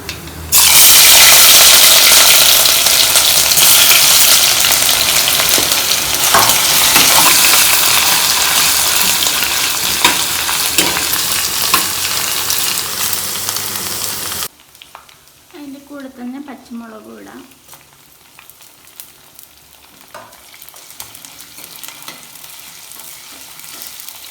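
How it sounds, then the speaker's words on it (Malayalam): Crushed garlic and ginger frying in a pan for Kerala-style sardine curry, a loud, dense sizzle that runs for about fourteen seconds, then drops to a quiet crackle with light stirring and a brief tonal sound. "ഇനി നമുക്ക് വെളുത്തുള്ളി ഇഞ്ചിയും കൂടെ ചതച്ചതിട്ട് കൊടുക്കാം"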